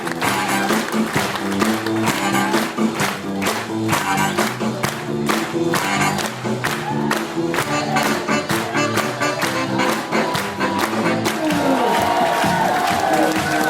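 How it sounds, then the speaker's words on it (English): Cruise ship show audience clapping along steadily and cheering after a passenger talent show, dense rhythmic claps with crowd noise over music, loud and continuous throughout. "Let's see it, clap it along!"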